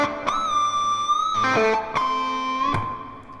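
Distorted electric guitar plays a rock lick built on sharp squealing pinch harmonics, several bright attacks with held, slightly bending notes between them, loud and up close with no speech.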